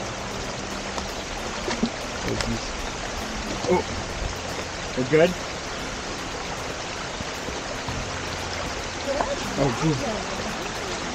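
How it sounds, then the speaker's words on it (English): Running water of a mountain stream in Black Rock Mountain State Park burbles as a steady broadband rush throughout, with a few brief exclamations from a nearby voice over it. "especially when we get close to the like running water like this here"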